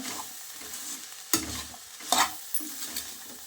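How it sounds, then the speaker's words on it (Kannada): Jackfruit seed and horse gram bassaru being stirred in a pan, a steady soft scraping and frying hiss broken by two sharper clanks of the spoon against the metal, with no talking. "ಚೆನ್ನಾಗಿ ಮಿಕ್ಸ್ ಮಾಡ್ಕೋಬೇಕು"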